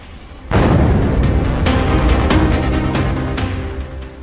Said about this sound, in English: smashes into the building at full force, causing a massive explosion. The blast shakes the entire area.